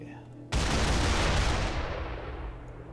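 Heavy ship-mounted weapons of a UNSC vessel open fire in the Space Engineers game, a sudden loud booming barrage that starts after brief quiet and rolls on as a dense, rumbling roar, slowly fading.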